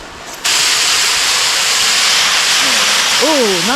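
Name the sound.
wind-driven rain shower on a tent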